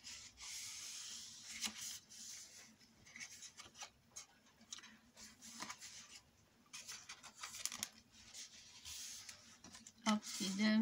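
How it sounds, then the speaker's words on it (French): Paper being creased along fold lines for a handmade box album, giving soft rubbing and scraping strokes in short bursts, close and fairly quiet. "Je marque mes plis comme d'hab."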